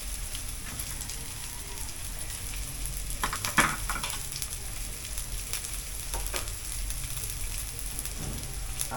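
Chicken liver and gizzard adobo frying in a pan, with bay leaf and peppercorns added, giving a steady close sizzle and crackle throughout and brief louder stirring scrapes partway in.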